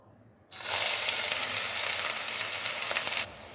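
Onions drop into hot oil with a sudden burst of sizzling, which holds loud and steady for nearly three seconds and then cuts off.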